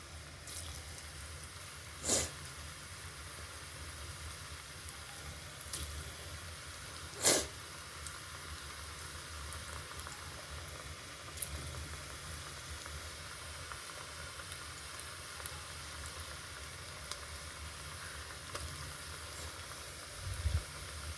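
Bonda batter for tea-shop style fritters fries in hot oil with a faint, steady sizzling hiss, punctuated by a few brief, sharper spits and pops.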